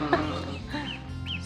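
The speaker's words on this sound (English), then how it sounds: "So here are our little Peking ducks" Young Peking ducklings, a few days old, peep and chirp in quick overlapping calls, close and clear, a busy little chorus throughout.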